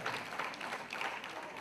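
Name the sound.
applause for the parish council vice-president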